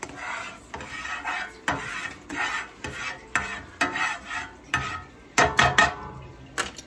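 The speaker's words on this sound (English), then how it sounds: "I just go like this and I put the oil around it" A big red spatula scrapes and spreads oil around a pan for crepes in a series of rhythmic strokes, each a close, gritty scrape with clinks of metal, faster toward the end.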